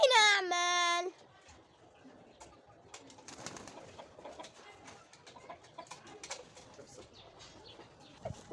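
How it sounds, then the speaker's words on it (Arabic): Pigeons in a bird house, with soft cooing and fluttering close by and other fowl faintly clucking, after a short loud tonal sound at the start. "الحمام تحتينا بتلعب"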